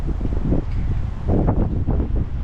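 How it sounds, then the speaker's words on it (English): Gusty wind rumbling and buffeting the microphone in uneven surges in downtown Gillette, Wyoming, fairly loud, with no voices. "It's windy here"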